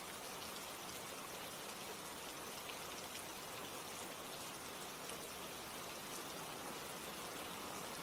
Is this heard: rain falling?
yes